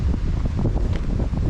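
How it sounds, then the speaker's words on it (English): Strong wind on a coastal trail at Strandhill, roaring continuously as heavy buffeting across the microphone, with no voices heard. "it's too windy"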